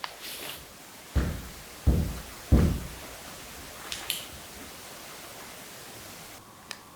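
Three dull, evenly spaced thuds imitate footsteps on a solid floor inside a quiet room, fairly close, followed by a few faint knocks and rustles against a soft background hiss.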